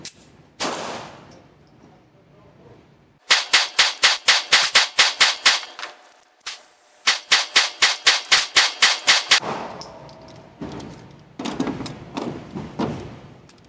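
A Walther PPQ SC compact pistol is fired in two quick strings of about a dozen sharp, loud shots each, with a pause between them and rustling handling noise before and after, during a high-round-count reliability test.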